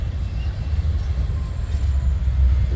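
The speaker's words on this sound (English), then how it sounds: "right now there's quite a few trains going." A freight train rolls through a small railroad town in Logan, Montana, a steady low rumble of cars and wheels, loud and continuous with no voices.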